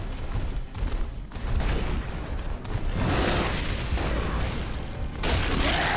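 Pistol gunfire in Gears of War 3 amid a dense battle, shots and booms blending into continuous rumbling combat noise that stays loud throughout with no clear pauses.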